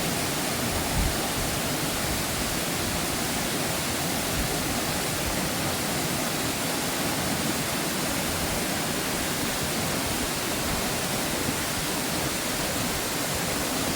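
A waterfall rushing nearby, a loud, dense, unbroken roar of falling water that holds steady throughout with no voices.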